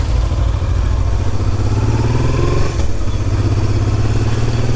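Motorbike engine on a Chinese road, droning steadily up close, with a brief shift in revs near the middle before settling back to a constant hum.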